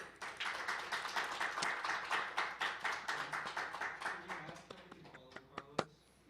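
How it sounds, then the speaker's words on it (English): A poetry night crowd gives a round of applause, a brisk, even patter of many hands that thins into a few scattered, separate claps near the end, with faint voices as it dies down. "if we can get a round of applause."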